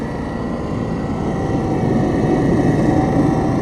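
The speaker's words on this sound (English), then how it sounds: "Got all kinds of noise. Jet noise. We're close to the airport." Jet aircraft noise near an airport at a waterside fishing spot in Virginia Beach: a continuous loud, broadband roar with a low rumble, building slightly over a few seconds.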